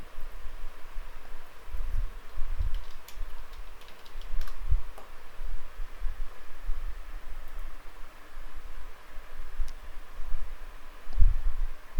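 Keys clack on a computer keyboard in an irregular run of soft taps and thumps, typed quickly at close range over a faint hiss.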